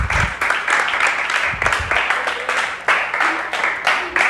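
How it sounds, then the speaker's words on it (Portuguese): Church congregation applauding the Lord, a sustained wash of clapping from many hands with a few irregular bursts, voices mixed in underneath. "Dê um forte aplauso ao Senhor."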